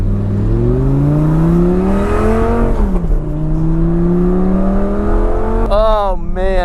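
A Lamborghini supercar's engine revs up through the gears, its pitch climbing steeply, dropping at each shift, then rising again with sharp blips near the end, loud and close throughout.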